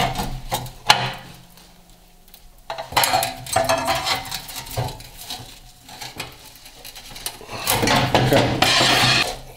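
A big screwdriver pries and scrapes at the sheet metal of a Bronco door post, giving clanking metallic bangs and scraping bursts in irregular spurts, close and fairly loud.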